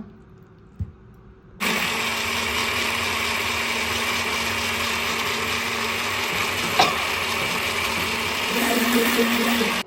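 A blender runs steadily in a jar, whirring loudly and continuously after a short quiet start, blending lime juice and water for a Thai dish with minced meat.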